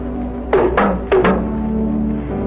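Small African talking drum used for short-distance messages, beaten in a quick pattern of four close strokes in two pairs, pitched hits standing clear over a low steady hum.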